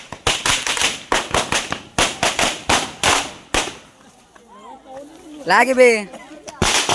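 Firecracker bombs bursting at a Ganpati immersion, a rapid string of sharp, loud cracks in bursts with a short pause, followed by a whistling rocket-like sweep and more bangs; a voice speaks briefly.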